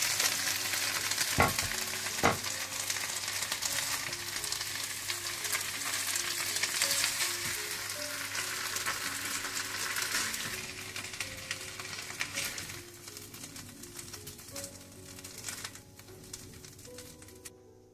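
Chicken frying over high heat for crispy KFC-style chicken, a loud, continuous sizzle and crackle that stays close throughout and eases slightly toward the end.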